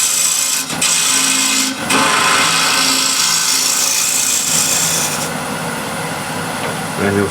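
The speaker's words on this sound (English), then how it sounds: "So again, using scraper." A scraper is pulled across a wood surface to level it, making a loud, steady rasping scrape in long strokes with brief pauses between them.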